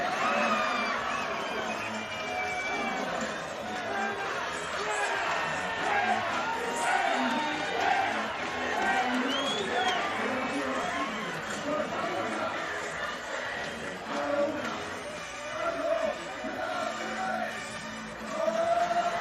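A large crowd fills a bull ring converted into a beach volleyball venue, with dense, continuous chatter and chanting and occasional cheers, with voices carrying over the top.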